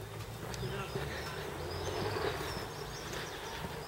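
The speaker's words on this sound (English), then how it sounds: "And the bees are out, which is good." Bees buzz outdoors on a country walk near Ruswarp in North Yorkshire, a faint, steady insect drone carried over a soft background hum, with no nearby talking.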